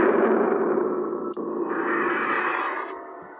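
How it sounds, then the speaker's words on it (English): A custom 'haunted' lightsaber ignites into an eerie, distorted hum with an echoing effect. The tone holds steady, shifts brighter partway through, and includes a brief click, with no voices. "I'm really happy with how this ignition sound turned out"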